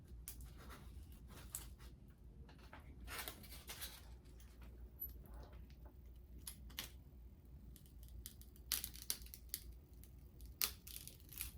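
Scissors snipping in short, irregular bursts, quiet and close, with small crisp cuts separated by pauses during careful precision trimming for a village train display.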